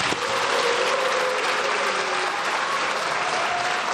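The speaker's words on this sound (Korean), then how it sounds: "지금 여권 의원들은 모두 자리에서 일어나서 박수를 보내고 있고요." Lawmakers in the Korean National Assembly rise for a standing ovation after the president's budget address, a loud, dense, continuous applause filling the chamber.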